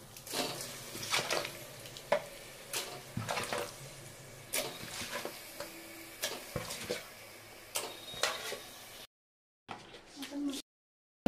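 Kilo of mutton with ginger-garlic paste and masala frying in a pan for gongura curry, steady sizzle broken by repeated scraping clicks of stirring, close, with a quiet gap near the end.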